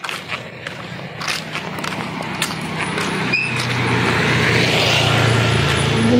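A motor vehicle, likely a motorcycle, approaches from a distance and grows steadily louder and closer over several seconds, with faint background chatter and a brief whistle-like tone early on.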